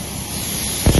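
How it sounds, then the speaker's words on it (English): Compressed air blasting abrasive media out through a hose to strip paint: a steady, loud broadband hiss that swells into a heavier, rougher rush right at the end. "And then the air pushes that material out at very, very high power through"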